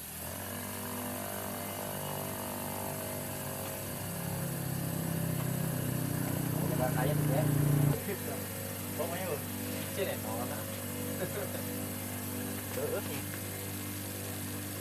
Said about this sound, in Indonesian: Kita haluskan menggunakan gerinda duduk dengan amplas bekas ya